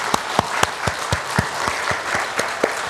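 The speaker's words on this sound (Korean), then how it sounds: "하나님께 영광의 박수하겠습니다" A church congregation at a Thanksgiving service claps together in praise, an even, rhythmic round of applause filling the sanctuary with no voices over it.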